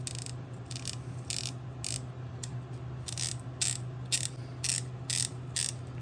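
Clicking of a socket wrench ratchet pawl being adjusted and worked, with bursts of quick mechanical clicks in several short runs over a low steady hum, close and fairly quiet.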